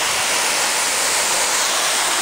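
A waterfall in the Catskills, heard from the bottom of the falls, roars as a loud, steady wash of broadband rushing water with no breaks.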